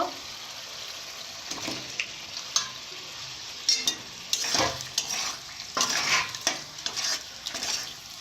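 Fried meat being stirred and mixed with spices in a pan, giving scraping, clattering stir strokes over a soft background sizzle, louder and busier in the second half; no voices.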